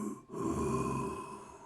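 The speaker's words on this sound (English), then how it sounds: "The sound of something very large breathing." A huge, unnatural creature in a mine takes a long, deep breath. A low, rough exhale drifts down a corridor with a faint catch near the end, soft and with no voices.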